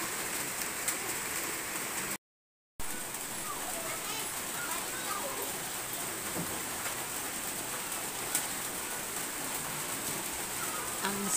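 Steady rain patters on floodwater and surfaces, a continuous hiss with occasional drips, while children playing in the flood drift faintly in the background.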